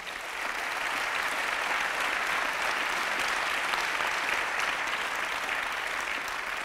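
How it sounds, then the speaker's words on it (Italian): Audience applause at the Evolution Forum 2016, a dense, loud, even roar of many hands clapping that holds steady throughout with no talk over it. "facciamogli un applauso."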